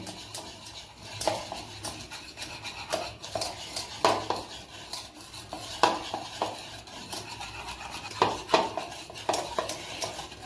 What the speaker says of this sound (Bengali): এখন আমি চিনি আর তেলটা মিশিয়ে নিব।